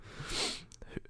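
A short, quiet nasal sniff, a brief hiss of air drawn in through the nose, followed by faint small clicks.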